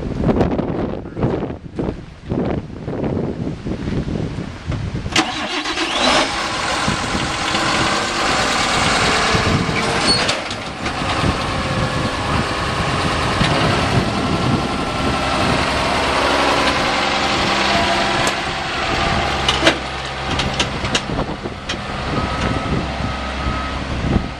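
A planter tractor's engine runs in a steady, loud drone after a few brief rumbling bursts at the start, with reversing beeps and gusts of wind buffeting the microphone out in a South Dakota soybean field.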